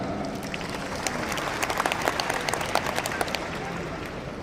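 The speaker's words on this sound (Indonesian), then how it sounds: "Dr. Andes Ahmadi, berikan tepuk tangan." A crowd applauds steadily for several seconds, the clapping close and fairly loud, with a voice talking underneath.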